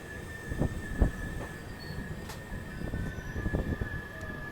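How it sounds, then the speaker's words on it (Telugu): Narasapur-Tirupati express rolling into platform 2 at Bitragunta station, faint rhythmic wheel clacks and thumps over a steady whine and distant ambient rumble. "ప్లాట్ఫామ్ 2కు చేరుకోవడం జరిగింది."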